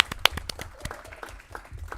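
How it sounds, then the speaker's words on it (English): Applause at a school board meeting, given for a teacher: a small group claps in sparse, uneven hand claps with one sharp clap near the start, then it thins to a few scattered claps. "Give him his own round of applause, though."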